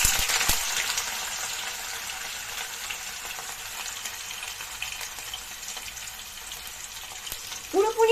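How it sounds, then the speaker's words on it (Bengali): Paneer pieces fry in hot oil, a steady bright crackling sizzle with a sharp knock near the start and a short clatter at the end. "পুরো পনিরটা এখানে আমি দিচ্ছি না, অল্প অল্প করে পনিরটা দিয়ে ভেজে নেব ভালো করে।"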